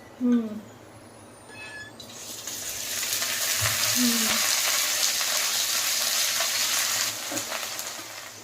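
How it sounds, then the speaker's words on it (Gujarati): Steady oil sizzle of okra frying in a pan, rising after a quiet start and holding loud for several seconds, with a few brief clinks. "ભીંડો એકદમ શેકાઈ ગયો છે."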